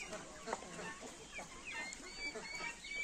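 Small chickens cluck and peep in a farmyard, scattered soft calls and chirps at moderate distance, fairly faint, with a person talking at times in between.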